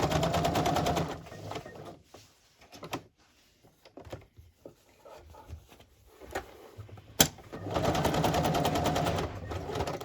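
Sewing machine zigzag stitching along sari silk and lace, loud rapid mechanical chatter at the start and again at the end, with quieter handling clicks and taps in the pause between.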